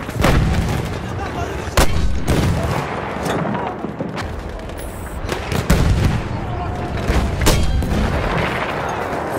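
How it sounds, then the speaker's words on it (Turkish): A thrown bomb bursting amid repeated booms and bangs in a First World War video game at Achi Baba, dense explosive cracks over a constant rumble, with a voice speaking at times. "Bomba atıyorum."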